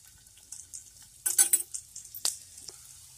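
Ginger and chilli hitting hot oil in a pan, a quiet start then a few sharp sizzling bursts as the ingredients go in, fading to a soft crackle.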